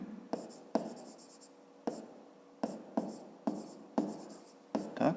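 Hand-written notes for a fifth-grade maths exercise: a pen scratches across paper in a series of short, separate strokes with pauses between them, close and fairly quiet, with no talking.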